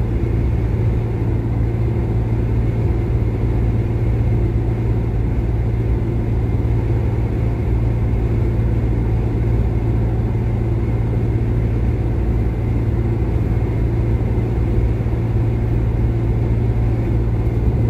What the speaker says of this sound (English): this is what it sounds like with the tailpipe off